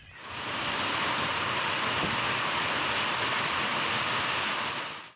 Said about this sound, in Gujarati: અંબાજી સહિત આસપાસના પંથકમાં વરસાદી ઝાપટા પડતા ખેડૂતોમાં ખુશીનો માહોલ જોવા મળ્યો હતો